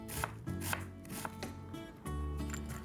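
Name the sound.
knife chopping onion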